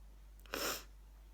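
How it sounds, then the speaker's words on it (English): One sharp human sneeze in the middle of a sneezing fit, a short breathy burst close to the microphone, set against a low steady hum with quiet before and after. "I have these sneezing fits every day"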